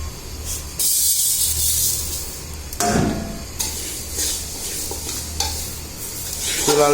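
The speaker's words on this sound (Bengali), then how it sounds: "মুগ ডাল আর মাসকালের ডাল নিয়েছি আমি এটাকে এখন হালকা করে ব্রাউন কালার করে বাইজা নিব" Mung dal and black gram lentils dry-roast in a pan for khichuri, with a steady close scraping stir and a light sizzle, punctuated by a few sharper clatters of the spoon.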